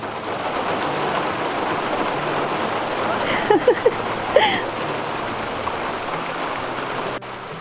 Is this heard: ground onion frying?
no